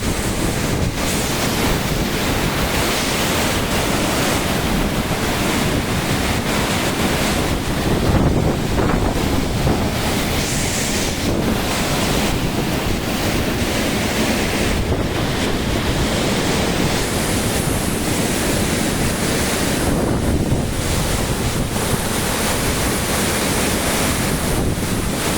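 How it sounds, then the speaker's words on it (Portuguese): The Véu de Noiva waterfall pours in a loud, constant roar of rushing water close by, mixed with gusty wind buffeting against the microphone, and no one speaks. "Cachoeira Véu de Noiva."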